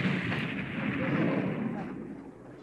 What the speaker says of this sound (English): explosions are sometimes triggered by primitive mechanisms